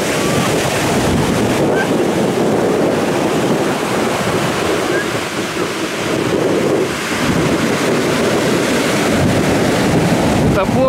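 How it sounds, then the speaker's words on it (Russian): Stormy evening sea with heavy surf crashing and strong wind buffeting the microphone, a continuous loud roar of breaking waves that swells and dips without pause. "Ненормальный шторм, а?"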